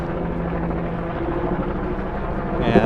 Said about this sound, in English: Tourist helicopter above us.